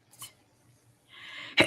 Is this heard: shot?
no